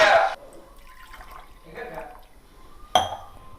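Rainwater is poured into a cooking vessel in short splashing bursts, with a faint clink of the pot between pours.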